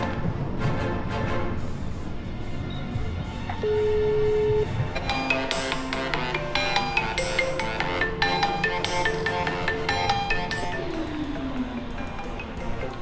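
A phone ringtone plays during an outgoing call, a repeating electronic melody of bright tones over steady background sound, continuing for several seconds without speech.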